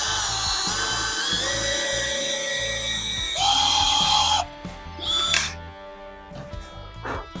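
A power drill whines as it bores a hole into a wooden guitar body, its pitch rising under load before stopping, followed by a couple of short bursts and clicks.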